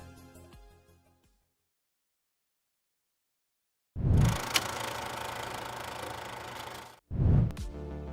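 A deep V8 engine rumble from a Corvette C5 starts after a stretch of silence, holding a steady throaty roar for a few seconds, then cutting briefly before revving back up.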